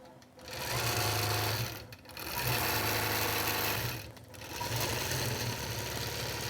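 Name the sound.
Statler quilting machine stitching through Peltex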